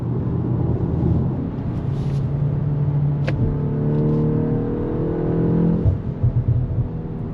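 A 2025 BMW M235 engine revs up and holds at a rising, rumbling pitch, close by, then drops back with a few uneven throttle blips at the end.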